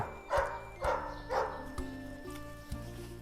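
A puppy barks in three short yips at a roadside shop, amid steady music with a thumping beat.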